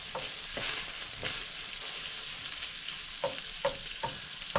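Minced beef frying in its own rendered fat in a pan, a continuous bright sizzle with a few sharp crackles and pops scattered through, close and moderately loud, no talk.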